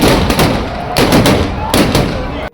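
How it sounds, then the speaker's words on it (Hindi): Cannons fire at a gunpowder Holi festival in Rajasthan, with three loud, sharp blasts roughly a second apart over a dense, roaring crowd and background din. "ये आग उगलती तोपें,"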